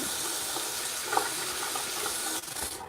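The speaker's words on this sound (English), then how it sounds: "So I'm just gonna get some water out of the sink." Water runs from a sink tap in a continuous, close rushing stream that cuts off abruptly near the end, with no talking.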